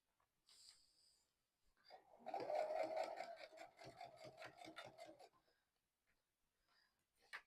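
A sewing machine stitches a fabric library tote bag with boxed corners in a steady run of rapid needle strokes lasting a few seconds, close and fairly loud, with brief handling rustles before and after.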